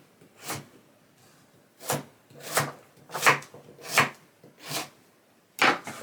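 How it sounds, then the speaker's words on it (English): A knife chops a beet into cubes on a cutting board, giving seven or eight sharp, close thuds at an uneven pace with short quiet gaps between them. "I'm going to cut that beet up and then slice it into pieces"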